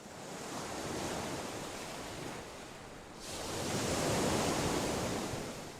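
Ocean surf and wind on a Médoc beach roll in as a continuous broad roar, with a wave surging louder in the second half and wind buffeting throughout, with no voices.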